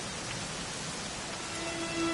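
Steady rain falling in the video game Dragon Quest XI S, a constant soft hiss of even intensity throughout with no voices.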